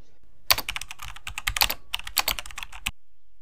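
Quick bursts of keystrokes on a computer keyboard as a website address is entered in Google Chrome, a close, dense patter of clicks lasting a couple of seconds, then silence.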